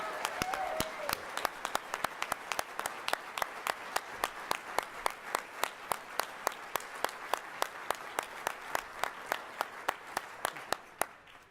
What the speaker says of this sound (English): let's have one final round of applause